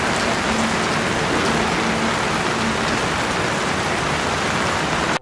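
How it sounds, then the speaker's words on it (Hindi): Heavy rain pours on an Osaka street, a dense, loud, unbroken hiss of drops hitting the pavement, with a faint hum underneath and no voices. "बारिश भी बहुत ज़्यादा आ रहा है"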